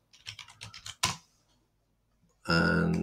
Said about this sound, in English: just go to the Play Store and type in Google Calendar.